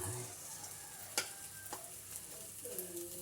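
A batter of egg and banana sizzles in oil in a pan with a soft, steady crackle, punctuated by a couple of sharp clinks and scraping sounds from a utensil.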